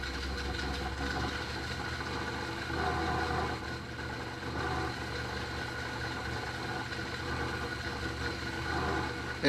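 A car engine with a freshly installed Cobra EFI system idles steadily at a little over 1,000 rpm, a continuous low rumble with a mild knock, close and even throughout.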